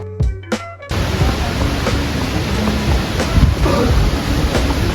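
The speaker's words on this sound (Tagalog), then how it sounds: "from here maririnig mo na yung tunog ng waterfalls" Steady broadband rushing water from the Cat Cat Village waterfall in Sapa, Vietnam, fills the scene after a brief quieter opening with faint tones, holding at a constant loud roar.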